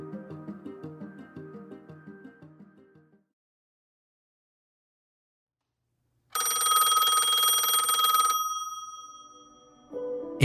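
A telephone ringing: a rhythmic ring pattern that stops, silence, then a loud, sustained electronic ring tone that cuts off before another ring begins at the end.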